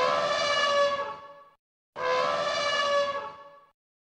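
Elephant trumpeting in two loud, brassy blasts with a short gap between them, each starting strong and then fading out.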